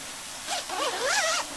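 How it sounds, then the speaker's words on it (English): Zipper on the door of a Chinook 1P one-person tent being opened during a wild camp, with a fairly loud, close, rising and falling zip that comes in two drawn-out pulls. "Doors open from the bottom and the top, so double zips"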